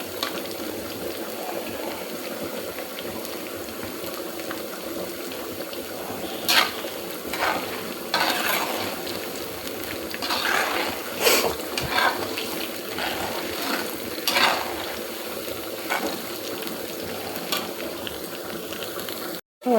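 Food fries in hot oil until golden, a continuous crackling bubble with scattered sharper spatters and scraping stirs, close by and steady over a long stretch without talk.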